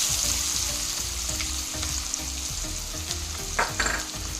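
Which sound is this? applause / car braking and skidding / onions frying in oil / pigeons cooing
onions frying in oil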